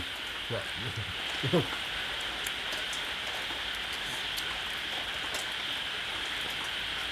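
Steady rain falls outdoors during home cooking of steamed fish, a constant close hiss throughout, with brief low voices early on.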